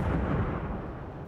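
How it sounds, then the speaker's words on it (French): A powerful explosion in Kyiv picked up by surveillance cameras, a loud dense roaring blast that fills the clip and rumbles on without pause. "Les caméras de surveillance ont donné un aperçu de la puissance de l'explosion."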